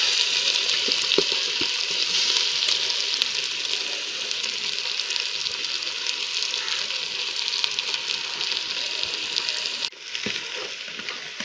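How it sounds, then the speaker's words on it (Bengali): Tomato, chili, onion and five-spice mix fry in a rice cooker, giving off a loud, continuous sizzle with stirring scrapes throughout. The sizzle dips briefly near the end, then resumes, and no one speaks. "টমেটো, মরিচ, পেঁয়াজ এবং পাঁচফোড়ন দিয়ে এটাকে ভাজা ভাজা করে নেব।"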